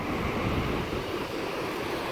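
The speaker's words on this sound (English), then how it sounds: "the water flow coming down over the rock and into the bedrock below" Steady rushing water of a waterfall pouring over rock into a deep carved plunge pool in Minnesota, a continuous broadband roar heard alone, with some wind buffeting the microphone.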